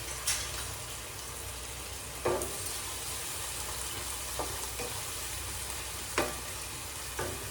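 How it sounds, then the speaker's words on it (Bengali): Chopped onions fry in a pan with a soft, steady sizzle throughout, broken by a few light scrapes and clicks of stirring, fairly faint with no talk. "এটা এই পাশে আস্তে আস্তে ভাজা হতে থাকুক।"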